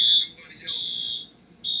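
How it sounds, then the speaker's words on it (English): A fire alarm going off indoors, sounding in repeated high, piercing electronic beeps with short gaps, steady and fairly loud, with faint background noise beneath. "The alarm going off."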